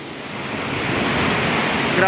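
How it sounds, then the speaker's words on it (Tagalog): Heavy rain pours down in Saudi Arabia during a rare downpour, a dense, loud, continuous hiss of falling water close to the microphone with no pauses. "Grabe lakas ng ulan."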